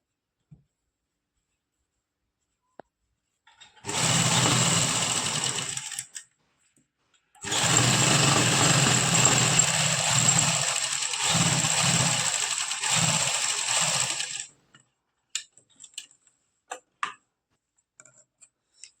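A sewing machine stitches the lining of a salwar in two bursts, a short run of a couple of seconds, then a longer steady whirring run of about seven seconds, with faint clicks from handling the fabric afterward.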